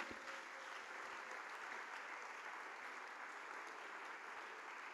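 A church congregation applauds, a dense and continuous wash of clapping that holds steady throughout without individual claps standing out.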